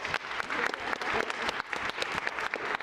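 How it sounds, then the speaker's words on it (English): A room full of conference attendees clapping for themselves, brisk and uneven with many individual claps standing out, moderately loud and without talk. "please give yourselves a huge round of applause."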